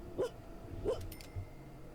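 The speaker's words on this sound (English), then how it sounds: "He was just kind of woofing as he was walking along." Pet dog in The Sims 4 giving two soft, short woofs about half a second apart as it walks, followed by a faint low thud, over quiet game ambience.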